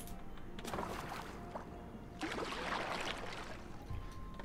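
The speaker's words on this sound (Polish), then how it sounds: "Pagaj, chłopie, pagajuj." A small boat is paddled through water in Assassin's Creed Valhalla, with steady sloshing and swishing strokes in two broad bursts over a continuous watery bed, moderately loud and close.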